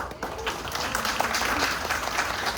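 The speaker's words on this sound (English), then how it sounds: "Deserve all the applause." Steady crowd applause, a dense wash of clapping that holds at an even level throughout without any speech.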